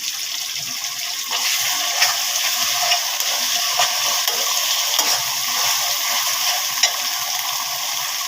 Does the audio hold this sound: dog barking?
no